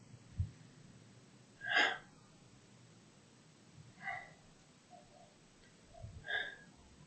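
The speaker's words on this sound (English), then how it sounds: "So inhaling, exhaling. Kind of exhale as a short burst." Three short, sharp breath bursts exhaled during a qigong breathing exercise, spaced a couple of seconds apart, close and fairly quiet against a soft, hushed room.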